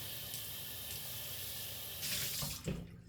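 A kitchen sink tap runs in a steady hiss while something is washed off after cooking, the flow surging briefly before the water splashes and cuts off.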